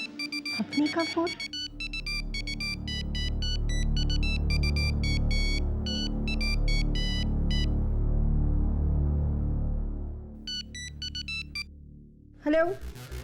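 A ringtone-style phone ring in a courtroom thriller drama trills in repeated electronic bursts for about ten seconds over a low musical drone, with talk before and after.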